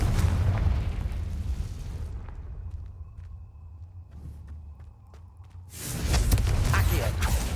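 A blasting-spell explosion from Hogwarts Legacy bursts with a loud boom and rumbling debris, fades into a quieter stretch of creaks and ringing, then a second heavy blast surges near the end.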